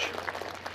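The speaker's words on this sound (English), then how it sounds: "You can clap." Audience applause at a US Coast Guard Academy commencement ceremony, a dense, steady wash of clapping from a large crowd filling the whole moment.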